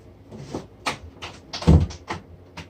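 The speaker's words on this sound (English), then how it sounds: "Gonna close my door," A bedroom door swings shut with a couple of soft knocks and one firmer thud partway through, close and fairly quiet, with no talking.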